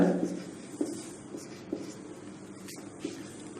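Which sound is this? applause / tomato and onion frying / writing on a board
writing on a board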